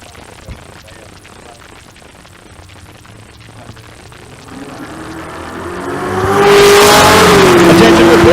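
A naturally aspirated small block Chevy Nova drag car idles with faint crackles, then launches into a loud, rising rev and roar at the drag strip, and the race is called over a loudspeaker in the first seconds.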